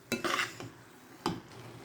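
A spoon stirs turmeric rice frying in butter in a pot, giving a few quick scraping strokes with soft sizzling between them. The sounds are close but quiet, with no talking.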